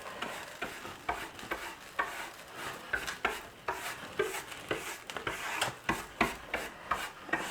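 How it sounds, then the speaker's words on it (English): A finger scrubs loose, gritty sand texture on a seascape painting, giving soft, close rasping rubs that repeat in a steady rhythm of about two strokes per second, faint overall. "Now I might scrub some of these areas that I think are just a little too thick."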